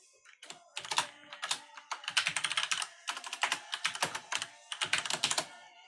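Rapid bursts of keystrokes on a computer keyboard while a new web page file is being written, clattering in uneven clusters with short pauses between runs, close and clear with no talking.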